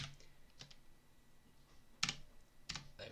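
Typing on a computer keyboard while entering modding code, heard as a few separate, fairly quiet clacking bursts with gaps between them.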